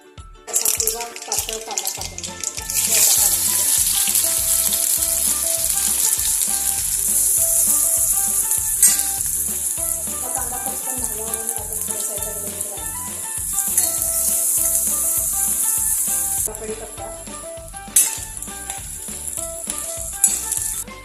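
Potatoes frying in hot oil for potato bhaji, a loud continuous sizzle with rhythmic clinks and stirring scrapes close by, a faint voice briefly underneath.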